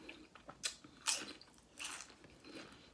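Low-carb chips are crunched while eating taco salad: a few quiet, crisp bites and chews come close to the mic, with short gaps between them.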